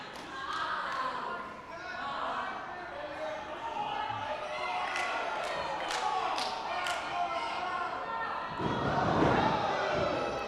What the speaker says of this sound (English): And the crowd is cheering for it.